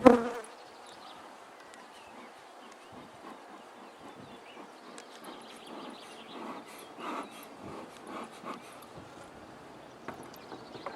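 Honeybees in an artificial swarm hive during an inspection, a steady soft buzzing hum throughout with a brief louder burst at the start, fairly close and with no talking.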